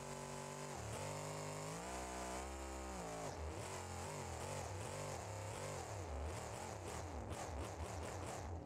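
A car engine in BeamNG Drive fitted with tunable headers exhaust revs hard and loud, rising and falling in pitch with a raspy, buzzing tone and rapid blips toward the end.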